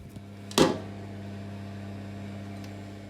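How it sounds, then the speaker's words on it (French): A microwave oven runs with a steady low hum while melting chocolate and butter in a kitchen, a brief clunk near the start, then an even drone with no talking. "Il ne faut pas que ça boue dans le micro-ondes. On veut juste les faire fondre."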